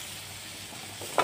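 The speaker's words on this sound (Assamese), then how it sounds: "গোটেইখিনি মছলা ভালদৰে এনেদৰে তেলত ভাজি ল'ম" Spices fry in hot oil for a fish curry, giving a soft, steady sizzle close by that ends in a brief, sharper crackle.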